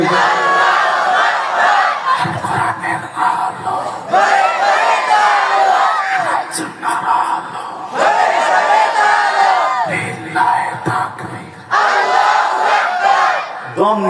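A large outdoor crowd at a religious gathering roars a shouted battle-cry response to a takbir call in repeated waves, each loud burst lasting a couple of seconds with brief pauses and a lone voice between.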